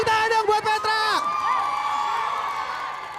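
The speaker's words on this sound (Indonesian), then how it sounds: "Tepuk tangan dong buat Petra." A crowd of vocational high school students cheers, whoops and claps for Petra, loud bursts of shouting at first that settle into a sustained, slightly distant roar of voices.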